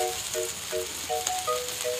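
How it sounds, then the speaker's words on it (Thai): Pork liver sizzles on a new moo kratha grill pan, a steady close frying hiss that runs through the whole moment with no talk over it. "เอาลงมาย่างเลยไอ้ตับหน่อยตับหน่อยมันหวาน"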